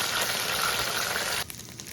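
Egg dumplings pan-frying over low heat give a steady close sizzle of hot oil that breaks off sharply near the end and becomes a softer, quieter crackle.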